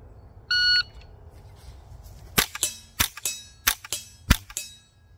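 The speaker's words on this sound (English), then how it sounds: "You're going to shoot 4 rounds in 6 seconds." Four sharp, loud gunshots from a firearm fitted with a SilencerCo Sparrow suppressor, fired in quick succession over about two seconds during a timed drill at a shooting range, each with a short ringing tail, preceded by a brief electronic start beep.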